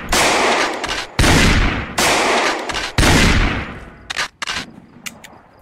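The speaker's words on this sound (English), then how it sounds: "Are you really shooting me?" Shotgun blasts from Project Zomboid, four loud close booming shots spaced about a second apart, each with a long noisy tail, followed by quicker, shorter bursts of shots.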